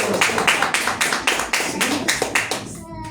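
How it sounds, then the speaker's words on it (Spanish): A church congregation claps in a steady, rhythmic beat during a Christmas sermon, each clap crisp and evenly spaced, the clapping continuing for a few seconds before stopping abruptly. "Alguien tiene que darle un aplauso por todo el corazón."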